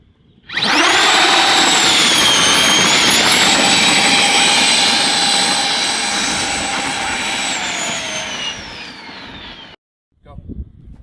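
An electric ride-on kids' jeep, modified for speed, accelerates at full throttle with a loud, steady high-pitched motor whine that rises slightly and holds for about nine seconds before cutting off abruptly.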